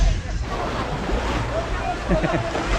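Waves rolling through a water park wave pool make a steady, fairly loud wash of surf and sloshing water, with voices in the background throughout.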